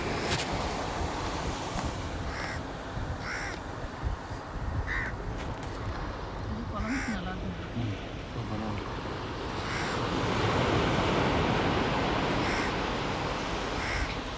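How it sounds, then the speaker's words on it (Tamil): Ocean waves washing onto a harbour beach on a windy day, a steady broad rush of surf and wind throughout that swells louder toward the end, with crows cawing in the background. "இன்னைக்கு ஏன் ரொம்ப அலை ரொம்ப இதாக இருக்குது காற்று"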